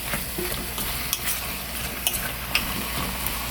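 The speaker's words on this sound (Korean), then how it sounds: "오징어가 익을 때까지만 이렇게 볶아주시면 되고요" Squid and radish stir-fry in a pot over raised heat, a continuous close sizzle broken by a few sharp clicks of a utensil against the pot, with no talking.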